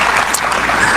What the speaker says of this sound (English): Let's give a round of applause to Pak Dino and friends.